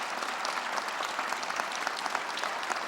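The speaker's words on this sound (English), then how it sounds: "Give him a round of applause again." Steady applause from an audience at a public address by the Massachusetts governor, dense continuous clapping with no voices on top.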